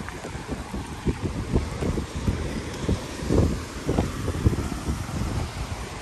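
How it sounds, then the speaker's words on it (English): Steady, breezy wind gusts buffet the microphone on a hillside overlook, a continuous low roar rising and falling in strength throughout with no talk. "Definitely breezy."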